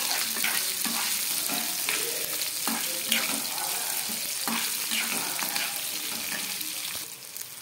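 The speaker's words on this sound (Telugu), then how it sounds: "ఇప్పుడు దీనిలో అల్లం ముక్కలు అయితే యాడ్ చేసుకోవాలి. వేసుకొని వీటిని కూడా బాగా ఫ్రై చేసుకోవాలి." Ginger pieces and green chillies fry in hot oil for a coriander tomato chutney, a loud, continuous sizzle close by with occasional stirring scrapes throughout.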